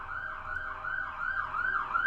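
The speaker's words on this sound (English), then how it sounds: "Can you guys hear that siren?" An emergency siren wails outside, its rising and falling tone repeating steadily and fairly distant, heard alone without talk.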